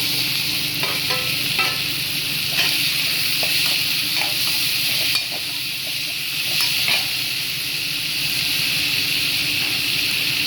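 Tomatoes fry in a pan with ginger and garlic, giving a steady close sizzle broken by repeated scraping and stirring clicks from a spoon against the pan, with no voices.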